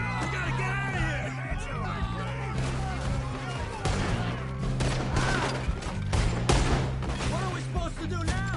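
Gunfire in a Red Dead Redemption 2 shootout pops in repeated sharp bursts under shouting voices and loud, busy game sound, steady through the whole stretch.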